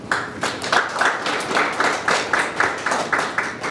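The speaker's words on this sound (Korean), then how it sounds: "큰 박수 부탁드립니다." Audience at a corporate vision proclamation ceremony for the Korea Industrial Health Association claps in rhythm, a close, steady pulse of synchronized hand claps about three per second.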